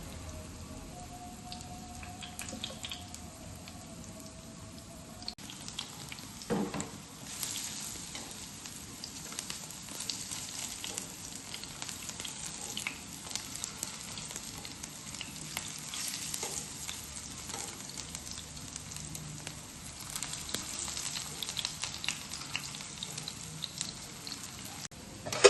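Cassava snack frying in oil, heard as a continuous soft, rain-like sizzle with faint stirring, fairly quiet and close, with no talk over it.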